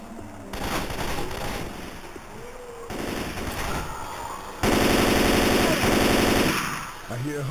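Bursts of loud automatic gunfire from the Left 4 Dead 2 video game, several sustained volleys broken by short pauses, the heaviest barrage near the end, with brief voices mixed in.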